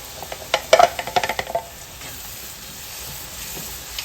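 Coconut milk hits a hot pan for crab curry and sizzles, with a burst of clattering stirring early on that settles into a quieter, steady fizz.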